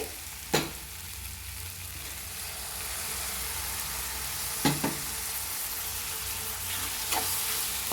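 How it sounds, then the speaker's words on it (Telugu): Ginger garlic paste fries in a pan with a soft, continuous sizzle, punctuated by three sharp clanks of a spoon scraping the pan as it is stirred. "బాగా కలపాలండి రెండు నిమిషాలు అలా వేగనివ్వాలండి అల్లం వెల్లుల్లి పేస్ట్ వేగిందండి"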